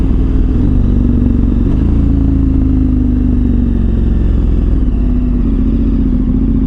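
A KTM 1290 Super Adventure R motorcycle engine at full throttle gives a loud, continuous droning roar with a steady pitch, close and alone throughout.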